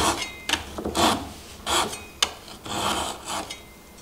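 A Japanese hand saw cuts a wooden tenon for a stool in short, irregular rasping strokes, close and fairly quiet, with brief pauses between pushes and no talking.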